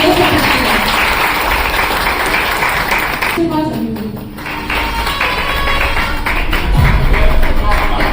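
Seminar audience applauding at a business plan presentation, a dense broad wash of clapping that fills the clip, dips briefly midway, then swells again toward the end.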